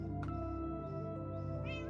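A cat meows in the Minecraft video game, a short mewing call heard over steady background music with no talking.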